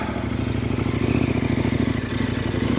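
A KTM 1090 Adventure motorcycle engine runs loud and close with a steady throbbing rumble and some clatter as the big bike is hopped over an obstacle.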